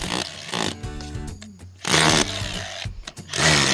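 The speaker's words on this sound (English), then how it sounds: "I'm going to take a hammer drill with a chisel on it and carve through that" A hammer drill fitted with a chisel carves a channel through a concrete wall reinforced with rebar to route underground plumbing, giving a loud, close, buzzing mechanical roar in two bursts with a brief lull between.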